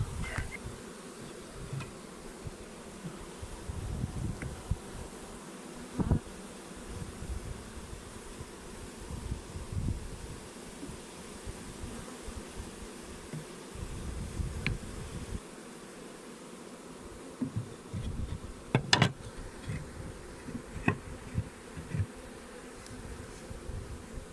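A swarm of honey bees hums and buzzes thickly while running into a hive, a continuous drone up close with occasional louder passes of single bees near the microphone.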